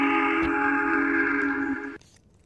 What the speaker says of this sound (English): blowing his deep tone whistle